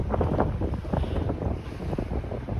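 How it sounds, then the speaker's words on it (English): Blustery wind buffets the microphone outdoors on a snowy downtown Toronto street during flurries, a loud continuous low rumble with gusting swells and no voices. "it's so blustery outside"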